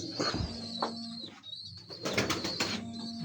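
Pure Kasuri pigeons coo on a rooftop in a few soft, close, throaty bursts, with a brief flutter and quiet background between calls, no talking.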